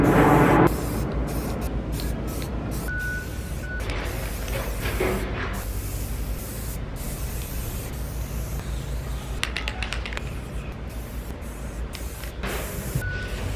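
A steady hiss of spray paint runs almost continuously, broken by a few brief pauses and short bursts, close to the microphone.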